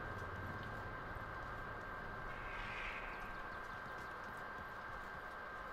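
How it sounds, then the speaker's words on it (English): A horse gallops in the battle-royale video game Realm Royale, a faint soft hoof patter beneath a steady wash of in-game ambient noise and a thin sustained tone. "I forgot I can ride a horse"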